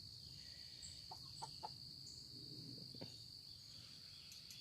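A rooster gives a few soft, short clucks outdoors in the morning, faint and close against a steady high insect-like hum, with no talking.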